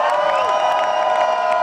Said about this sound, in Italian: voglio sentire un'esplosione di urla